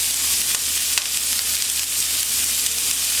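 Onions and mushrooms fry in a pan with a steady, bright sizzle and crackle, close and fairly loud, with a couple of faint stirring taps and no talking.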